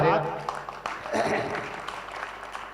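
Audience clapping at a mushaira poetry recital, a short burst of applause in a hall that fades within a few seconds beneath a voice speaking over it.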